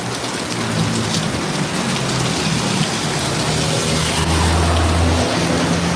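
Heavy downpour in Pasig pours loudly and continuously nearby, with low rumbling underneath like distant thunder.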